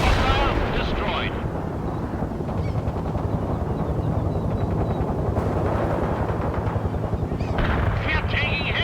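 Continuous gunfire and artillery explosions from the World in Conflict video game, a dense rumbling barrage with rapid shots layered over it, loud and steady, with voices talking under the noise.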